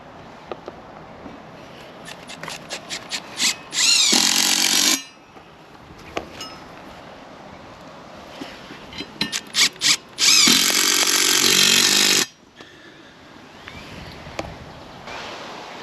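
A power drill drives long screws to mount a Creatiger firewood log splitter: quick clicking taps, then two loud, sustained bursts of whirring drive close by, separated by quieter handling noise.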